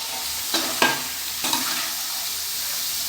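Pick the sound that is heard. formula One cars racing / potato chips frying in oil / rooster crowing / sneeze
potato chips frying in oil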